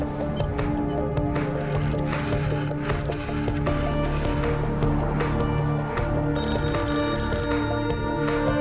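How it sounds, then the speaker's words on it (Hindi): A telephone rings repeatedly in an office cabin in a Hindi action movie scene, its bell tone repeating steadily throughout under a dense bed of dramatic background music. "अकबर के कैबिन का फोन लगातार बज रहा"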